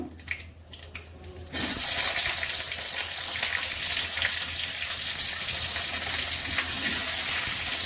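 Potatoes drop into hot oil tempered with cumin, garam masala and bay leaf, and a loud, dense sizzle bursts in after a quiet start. It then holds steady and close for the rest of the clip, with no voices.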